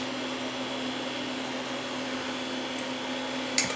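A vacuum sealer pumps air out of a bag of freeze-dried cheesy chicken chili with a steady, even mechanical drone, ending in a brief click near the end, with no speech.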